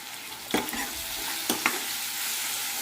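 Masala paste for a crab gravy sizzles steadily in a pan, with a couple of sharp scrapes as a utensil stirs it.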